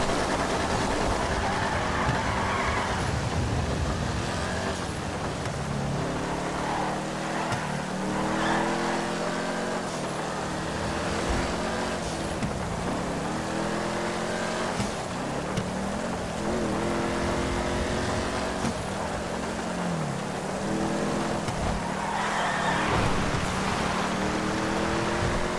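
A car drives through rain in the video game Grand Theft Auto Online, its engine revving up and down in repeated rising and falling sweeps over a steady wash of road and rain noise, loud and continuous.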